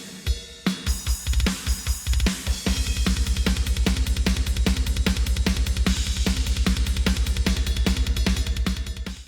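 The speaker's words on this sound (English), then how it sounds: "programmed some cool double bass" Programmed metal drums with rapid, relentless double bass kicks pounding under crashing cymbals and snare hits, opening with a few sparse hits before settling into a dense, driving pattern for a Halloween metal song.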